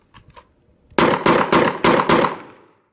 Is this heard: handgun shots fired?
yes